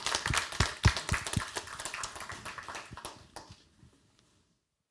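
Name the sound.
audience applause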